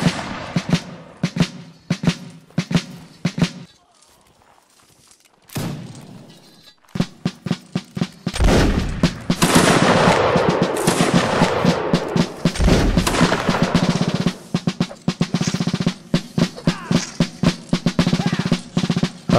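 Musket volleys from a line of soldiers firing at will in the game Mount & Blade, a ragged run of loud gunshots, sparse at first, then a dense crackling fusillade after a short lull, with brief voice commands in between.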